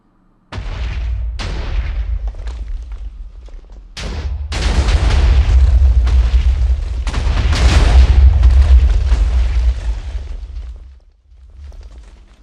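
Repeated deep booms from TNT cannons in a video game, a few separate blasts early then a dense rolling barrage of heavy explosions, loud and close, fading near the end.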